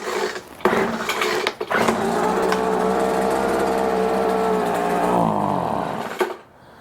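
A Craftsman leaf blower's small two-stroke engine catches after a couple of brief sputters and then runs for several seconds, a loud, steady buzzing drone close by, dipping slightly before it cuts off abruptly.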